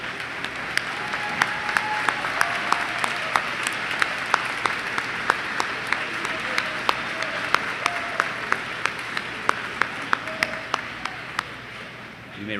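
Sustained audience applause at a school academic awards assembly honoring award winners, steady broadband clapping from a large seated crowd with a few sharper individual claps standing out, continuing without pause across the whole stretch.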